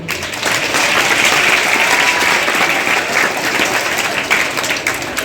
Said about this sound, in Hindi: आप सबके लिए जोरदार ताली।